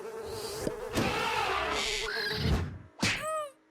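Giant flies buzz in a video game, with droning wingbeats that rise and fall as they pass near, mixed with thumps and game sound effects.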